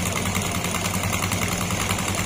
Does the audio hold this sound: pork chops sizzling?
no